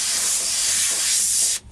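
An airbrush sprays blue paint onto a T-shirt with an airbrushed Ace Frehley design, making a close, steady hiss that holds without a break and then cuts off abruptly just before the end.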